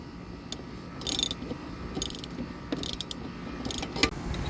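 Ratchet wrench on a 16 mm bolt, loosening the blade on a Troy-Bilt TB105 140cc OHV lawnmower: several bursts of quick metallic clicking, close and fairly loud, separated by short pauses.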